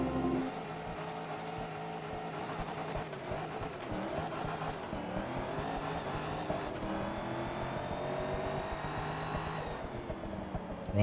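Cars accelerate hard side by side in a Forza Motorsport 2 drag race, Corvette touring cars, engines revving up through gears in a steady sustained roar with faint tire noise, no voices.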